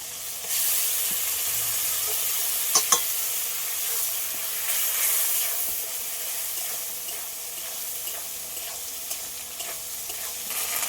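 Ground spice paste hitting a hot pan for a chicken curry, a steady loud sizzle and hiss with a few stirring scrapes, continuous and close.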